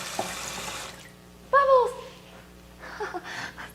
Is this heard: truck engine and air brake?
no